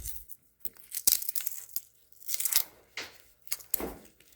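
Tape ripped off its roll while wrapping a fuel line during an LS swap, several sharp tearing bursts in quick succession, close and crisp.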